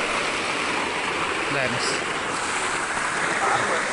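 A large stream of water rushes near Dharan, Nepal, producing a constant loud, close roar with no break. A voice briefly speaks over it.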